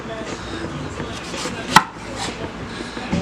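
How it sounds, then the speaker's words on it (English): A very sharp knife trims the ends off a medium-sized eggplant on a board, giving a single crisp chop with a faint thud against a quiet kitchen background. "So I'm going to cut the edges right here. And a super sharp knife."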